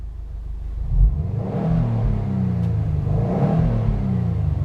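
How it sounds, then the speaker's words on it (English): A 2012 Subaru STI Limited engine heard from inside the cabin, a deep droning rumble that climbs through two rising revs, steady and loud with no talking. "And now you guys can hear it from the inside of the car."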